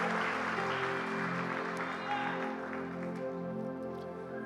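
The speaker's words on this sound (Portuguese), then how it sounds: "aplauda lindamente o nome do Senhor Jesus" Applause from a church congregation at a worship service, sustained clapping that blends with organ or keyboard music and sustained tones throughout.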